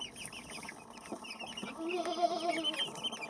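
Brakel chickens clucking in a lively chorus, with several birds calling at once and a louder, drawn-out call rising near the end.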